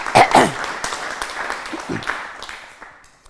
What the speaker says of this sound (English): I think he deserves a clap.